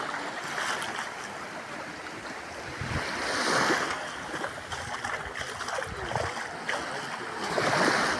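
Sea waves roll onto the beach at Puerto Aventuras, Mexico, in a continuous wash of surf with swells building every few seconds. Wind rumbles faintly in the background.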